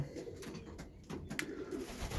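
Young racing pigeons in a loft in northern England give soft, low cooing calls, faint and close against quiet background noise.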